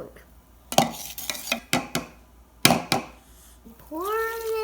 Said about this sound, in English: Then I mix it up with a spoon.